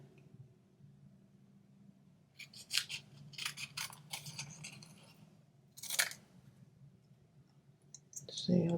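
Scissors snip through paper while a Valentine card is being made, a few close crisp clicking cuts in short bursts over a low background hum, ending with a louder rustle.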